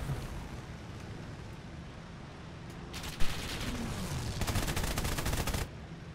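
An XP-38G fighter's machine guns fire in War Thunder, heard as two sustained bursts of rapid, dense gunfire over a steady engine drone.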